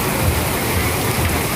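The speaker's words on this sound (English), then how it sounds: "But it's really pouring here, a lot of rain" Heavy rain pours down steadily at night on a street in Thailand, a dense, continuous hiss of water striking surfaces close by, with no break in the downpour.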